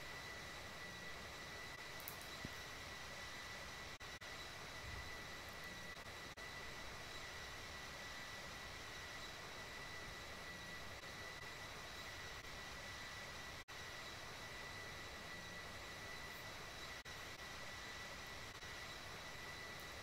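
Jet airliner engine in the Infinite Flight simulator game, a steady, even whine and rushing roar with a thin high tone running through it, held at a constant level for the whole stretch without speech.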